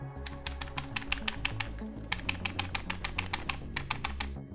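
Typing on a NuPhy Air75 low-profile mechanical keyboard whose magnets lie loose in a tray, producing steady rapid clicking keystrokes with a faint rattle beneath, close and moderately loud, with no talking.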